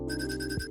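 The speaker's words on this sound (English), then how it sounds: "Everyone's getting loud ringtones." Loud electronic phone ringtone from the video game Coffee Talk Tokyo, a bright repeating melodic tone heard alone and close up for under a second.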